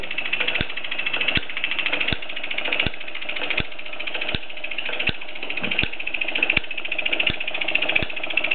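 A 1967 Mamod SE1 toy steam engine chugs with sharp regular clicks roughly every three quarters of a second, a steady mechanical rhythm over a whirring hiss.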